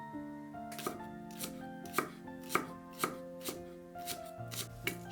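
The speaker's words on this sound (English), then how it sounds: "Mince a spring onion." A knife mincing spring onion on a cutting board, about a dozen crisp, quick taps in an uneven rhythm, heard close over soft background music with no talking.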